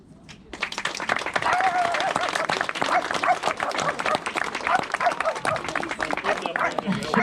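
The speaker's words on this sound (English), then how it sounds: "Yeah, I clap for the dog." Crowd applause at an open day, steady dense clapping that carries on for several seconds, with voices talking over it.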